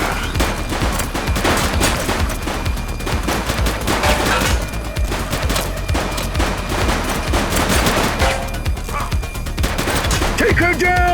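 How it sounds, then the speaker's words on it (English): A police shootout in the video game The Precinct: sustained rapid gunfire crackles throughout, loud and close, with bursts overlapping, shouted voices breaking through near the end. "Light them up! He's shooting!"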